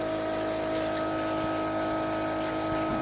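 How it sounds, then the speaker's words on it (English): Water gushes steadily from an old 40-gallon water heater being drained, a continuous close rushing flow with a faint hum. "It's draining."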